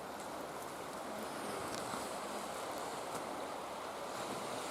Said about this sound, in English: That's a river.